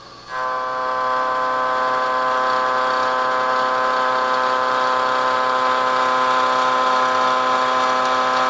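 A milling machine cutter takes a steady cut across an engine block for a 45-degree block build, giving a loud, continuous, tonal whine that holds evenly from start to finish.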